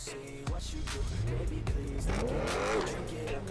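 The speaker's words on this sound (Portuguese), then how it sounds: "Olha o barulho do carro" Nissan GTR engine in GTA V starting up and revving, a loud steady roar with rising and falling pitch sweeps and a brief tire-squeal-like whine, close and continuous throughout.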